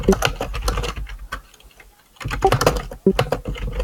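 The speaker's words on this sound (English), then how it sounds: "Is this what I sound like when I'm hand fisting my keyboard?" Loud, rapid clicking of a computer keyboard with a microphone set right over it, dense keystrokes in two bursts separated by a short pause.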